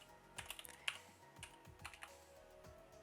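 Typing a short name on a computer keyboard, a quick cluster of light clicky keystrokes followed by a few scattered presses, close and quiet over a faint hum.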